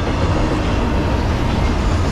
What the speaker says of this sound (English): I think this is the ninth train of the morning.